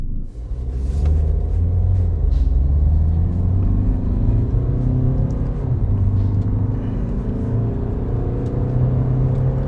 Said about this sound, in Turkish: Motor da genel olarak sessiz. Yani dizel motor olmasına rağmen çok böyle sizi yormuyor.